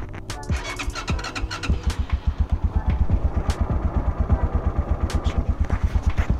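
An Italika TC 250 motorcycle engine starts with clattering cranking, then settles into a close, loud idle with a steady rapid thumping rhythm.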